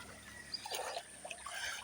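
Faint trickling and splashing of shallow river water during a crossing on a farm trip, soft gurgles coming in small bursts at a distance, with no talking.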